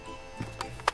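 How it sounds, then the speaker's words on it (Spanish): A weapon is reloaded in the video game Road to Vostok: three quiet mechanical clicks in sequence, the last one sharpest, over a low steady hum. "Está recargando, supuestamente."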